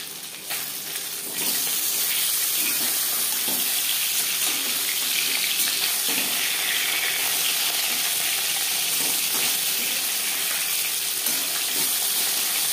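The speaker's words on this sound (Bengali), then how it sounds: "ভাজা হয়ে গেলে অপর সাইডটা উল্টে দেবো।" Katla fish frying in oil in a pan, a steady, dense sizzle that holds evenly and loudly after a brief quieter start, with no talk over it.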